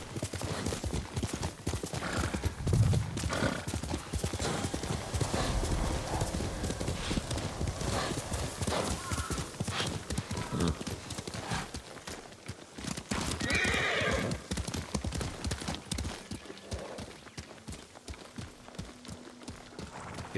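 Horse hooves clip-clopping steadily while riding in the samurai video game Ghost of Tsushima, with loud whinnies and neighs over continuous game ambience throughout.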